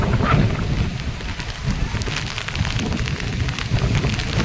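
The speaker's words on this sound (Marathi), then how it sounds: "पाऊस बघा पूर्ण भरलं" Heavy monsoon rain pours down steadily during waist-deep flooding in Bhiwandi, a dense hiss with low rumbling underneath that carries on without a break.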